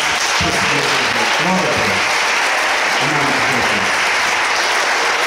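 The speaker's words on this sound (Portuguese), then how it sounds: "Se você crê, dê uma salva de palmas." A church congregation at a water baptism service breaks into dense, continuous applause filling the room, with voices calling out underneath.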